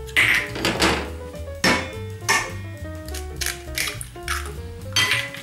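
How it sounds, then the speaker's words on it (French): Two eggs are cracked into cake batter in a kitchen, giving sharp taps and clinks against a bowl's rim, spaced irregularly among clattering dishes and utensils, close and fairly loud. "Je casse les 2 œufs directement dans la préparation."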